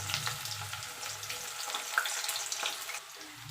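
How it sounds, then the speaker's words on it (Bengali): Potatoes drop into hot oil in a wok, sputtering and crackling in a busy, close sizzle that rises and falls over a few seconds, with a clink or two of utensils. "এবার তেলটা গরম হয়ে গেছে, আলুগুলো আমি ভেজে নেব।"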